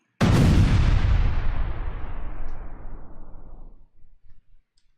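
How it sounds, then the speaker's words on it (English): Single booming cannon blast with a long rumbling decay that fades over several seconds, loud and alone with no voices. "Mods, get ready to fire the band cannons."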